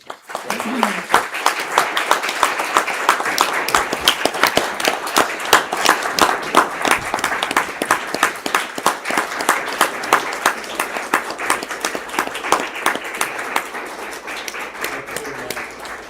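Sustained applause at a county board of supervisors meeting, steady and fairly loud, with dense clapping throughout and a slight fade near the end.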